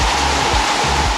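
Waterfall at Falls Creek, reached along the Packhorse trail, rushing in a steady, dense roar up close with no break or talk, a continuous broadband wash of falling water.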